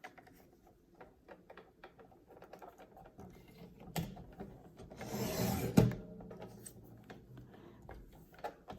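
Cardstock pieces are cut for a gatefold folio book: quiet ticks and handling noises, then one longer scraping cut swells and ends in a sharp snap before soft rustling resumes, close and with no voices.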